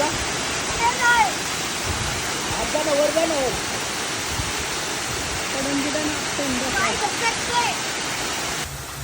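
A monsoon waterfall pours down in a steady, loud broadband roar that fills the whole stretch, with voices talking faintly beneath the rush of water.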